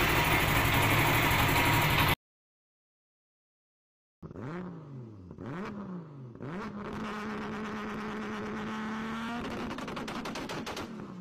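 A motorcycle fitted with an aftermarket exhaust system, revved loudly and close by in three sharp blips before settling into a sustained, raspy high rev, after a burst of loud noise and a brief silence.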